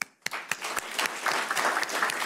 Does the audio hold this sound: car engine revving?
no